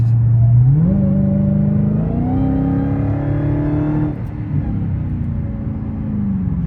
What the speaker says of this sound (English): I can kind of give you this enjoyment of hearing this supercharger